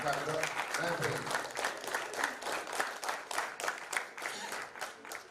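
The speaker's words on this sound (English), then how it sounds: "All right, y'all clap it up." Crowd applause at a 14U youth national championship media day, sustained clapping from a group for several seconds with voices mixed in underneath.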